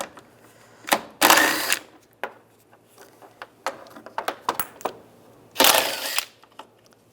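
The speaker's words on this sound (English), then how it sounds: "We're going to take these bolts out, use a 10mm socket" A 10mm socket ratchets bolts out of a 1999-2005 Volkswagen Jetta during A/C condenser replacement: two loud rasping bursts separated by scattered metallic clicks, close up.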